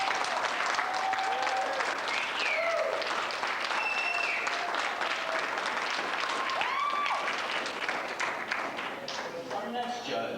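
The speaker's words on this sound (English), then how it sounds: "Please, a round of applause for Mr." Crowd at a Texas tattoo convention applauding a judge, sustained loud clapping filling the room, with scattered voices and whoops rising over it.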